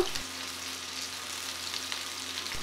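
Onions frying in a pan while drumstick-leaf potato bhaja is cooked, giving a steady, even hiss and crackle throughout, close and moderate in level, with no voices.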